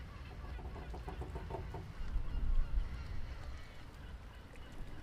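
A pirate-themed ambience layers stormy rumble and lapping water with honking seagull-like cries and creaks of a large wooden ship, heard at low volume, with a heavier thunder-like swell midway.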